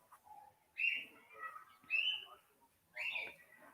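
Pet cockatiels, some of them wild, give three bright, whistling calls spaced about a second apart, with faint low chatter between them in a quiet room.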